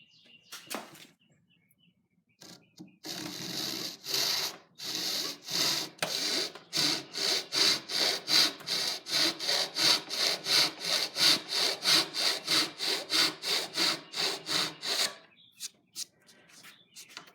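A hand saw cuts wooden dovetails for a school box at a bench, with a steady run of close, loud back-and-forth rasping strokes lasting about twelve seconds after a few brief opening scrapes.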